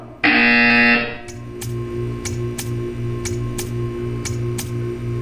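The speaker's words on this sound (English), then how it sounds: "When you hear the buzzer, stare at the art." Loud harsh buzzer in the Portal 2 video game, one blaring second-long blast followed by a steady repeating ticking pulse over a low hum.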